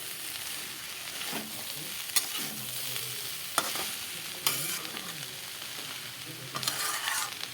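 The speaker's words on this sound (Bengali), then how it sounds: "এখানে আরও কিছু সময় লাল করে ভেজে নেব" Onions and green chillies fry in a pan, a steady crackling sizzle broken by several sharp scraping stirs of a spatula, close and fairly loud, with no voices.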